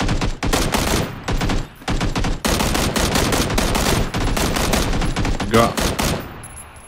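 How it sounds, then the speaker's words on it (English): Loud, close automatic gunfire in PUBG Battlegrounds, long rapid bursts broken by short pauses, with a brief spoken word between the volleys. "I'm going to open fire."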